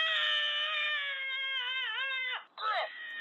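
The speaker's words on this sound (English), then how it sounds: "Scream like a woman." A person screams in a shrill, high falsetto like a woman: one long, sustained, wavering cry, then a brief break and a second short shriek, loud and close.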